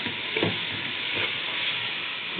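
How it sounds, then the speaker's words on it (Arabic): Soaked, washed basmati rice, half a kilo, drops into a hot pot and fries, giving a steady crackling sizzle with a couple of soft scraping stirs, no talking. "هنزل بالرز اللي انا غسلاه ونقعاه، ده رز بسمتي نص كيلو"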